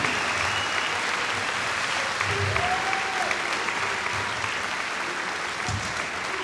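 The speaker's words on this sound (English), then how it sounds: "give yourselves a big round of applause" A large crowd of spectators at an ice hockey tournament applauds steadily, a dense, sustained wash of clapping that holds at an even level throughout without a break.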